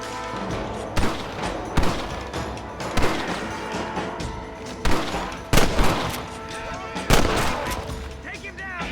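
Repeated gunshots ring out in a Red Dead Redemption gunfight, sharp loud cracks roughly every second over a dense bed of game music and ambience, with voices talking in between.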